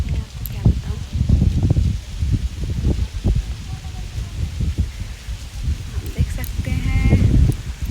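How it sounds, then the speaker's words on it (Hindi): Strong wind gusts rush and buffet a microphone outdoors in a peaceful open spot near Mangalore in the evening, loud low rumbling bursts rising and falling throughout with brief faint sounds above. "हवा भी बहुत तेज़ चल रही है"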